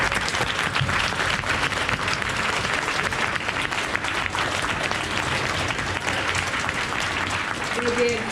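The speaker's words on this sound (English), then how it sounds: "give our students one more big round of applause" A school audience claps steadily for students after a Black History program play, a dense, sustained round of applause that fills the room for the whole stretch, with scattered voices and cheers mixed in.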